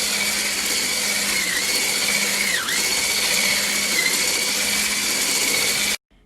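An electric mixer beats butter and white and brown sugar for double chocolate chip cookie dough, a loud, steady whir that runs without a break, dips briefly in pitch midway, then cuts off abruptly.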